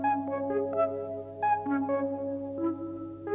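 Time-stretched music sample slowed to 98 BPM for a boom bap beat on a PreSonus ATOM setup, with soft, steady melodic tones over a low sustained bass layer, fairly quiet and unbroken.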